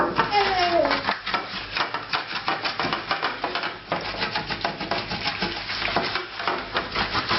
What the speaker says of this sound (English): it's on the stove, it's on a high heat, and I'm going to glaze this with some vermouth